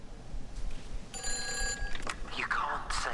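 A telephone rings in the video game Everybody's Gone to the Rapture, an electronic bell trill sounding briefly at moderate level among other game sounds, with a voice speaking over part of it.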